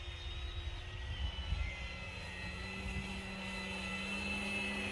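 E-Flite RC model airplanes flying at half throttle, one with a four-bladed prop, giving a steady thin electric whine with slowly shifting pitch over wind rumble, moderately distant and fairly faint.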